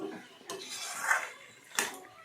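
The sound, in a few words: stirring vegetables with soy sauce in a pan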